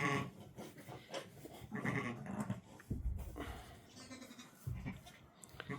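A newborn lamb bleats in several weak, wavering cries amid rustling and thumps, close and quiet, with no other voices.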